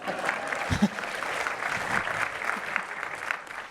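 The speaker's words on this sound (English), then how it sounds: "That deserves some applause. Come on, yeah." Audience applause at a workplace talk on hiring, a steady mid-level patter of clapping running throughout with a couple of brief low bumps early on.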